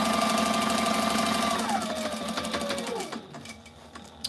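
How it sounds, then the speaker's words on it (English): Sewing machine running at full speed while stitching the back wall of a fanny sack, a dense steady mechanical whir that holds loud and even, then slows and drops off toward the end. "this is about as fast as this machine will sew. So, That's full speed right there"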